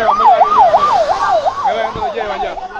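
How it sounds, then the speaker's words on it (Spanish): An ambulance siren wails in a rapid rising-and-falling pattern, loud and close, over road noise, then fading slightly as it goes by. "pasó una ambulancia ahí"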